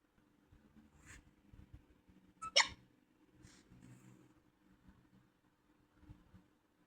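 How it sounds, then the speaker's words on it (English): A cartoon character hiccups once, a short sharp squeak standing out from quiet, low background rumble, with a few faint soft noises around it. "Sounds like you've got the hiccup."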